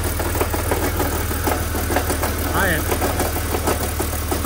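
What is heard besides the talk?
car engine idling with a knocking noise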